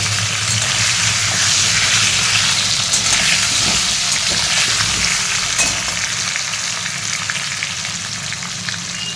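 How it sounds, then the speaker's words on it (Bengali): Potatoes frying in a pan give a loud, dense, continuous sizzle close by, with faint stirring scrapes and the crackle easing slightly toward the end, no voices. "আলুটা একদম ভাজতে দিয়ে দিয়েছি"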